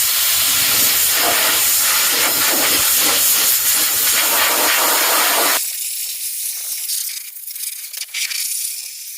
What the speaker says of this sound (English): use the world's largest air blower and blow dry this sucker